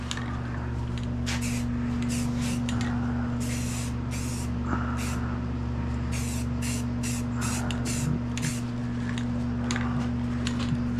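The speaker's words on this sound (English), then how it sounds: "so I'm gonna spray this down with etching primer." An aerosol can of etching primer hisses in repeated short bursts onto rally steering wheel parts over a constant low hum, the spray pulsing on and off in an uneven rhythm.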